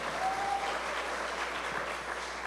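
Steady, moderately soft applause from a congregation at a church gathering, a continuous wash of clapping hands heard at a distance for a couple of seconds.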